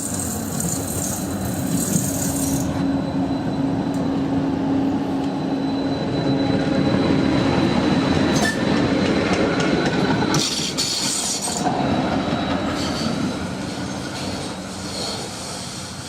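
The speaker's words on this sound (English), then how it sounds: "And as that train went round the corner" A Croydon Tramlink tram rolls steadily and rounds a corner, with continuous rail rumble, rhythmic wheel clatter over joints and a drawn-out high wheel squeal as it curves, heard close and loud from on board with no talk.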